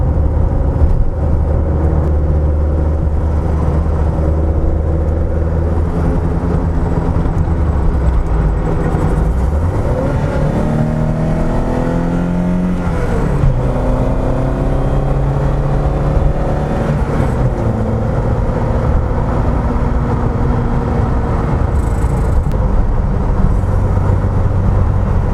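Continuous engine drone from inside a Lotus Elite on its first drive since 2019, loud and close throughout, with the pitch climbing and falling through gear changes and acceleration and no talking.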